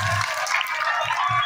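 Audience applause at a school's annual function honouring a Bollywood actor guest; a short, steady wash of clapping from a crowd, fairly loud and continuous with no voices.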